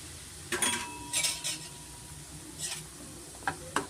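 Fine chiroti semolina roasted in a little ghee on medium flame for mango kesaribath, stirred in a pan; close, intermittent scraping and clinking bursts of the spoon against the pan, with no talking.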